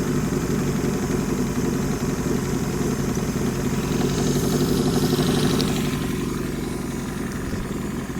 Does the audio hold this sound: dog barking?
no